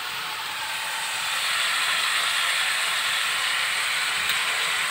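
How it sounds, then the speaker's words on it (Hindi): Bitter gourd fries in hot oil with a steady, bright hiss of sizzling that swells slightly after the first second and continues evenly, close and with no voices. "फिर भूनते रहेंगे इसे करेले को तेल में"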